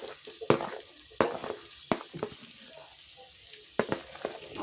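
Bay leaf and vegetables frying in a pan for veg biryani, heard as a steady close sizzle. Sharp clacks of a stirring spoon against the pan break in several times, with no voices.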